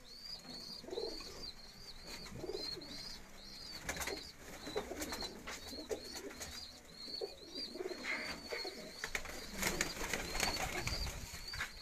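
Lakha pigeons of the Nankana Sahib breed cooing softly and repeatedly, with chirping birds and faint rustling and knocking in the background, quiet and steady, no speech.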